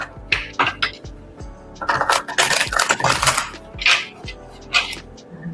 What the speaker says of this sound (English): Y'all can hear how well I'm shuffling these cards